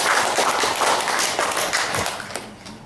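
A dense wash of audience applause at a Kupang mayoral candidate debate, many hands clapping together at once, loud and steady before gradually thinning out toward the end.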